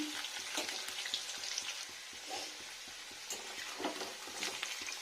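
Potatoes frying in a pan, a faint steady sizzle with quick crackles and occasional stirring clicks, quiet and alone without talk.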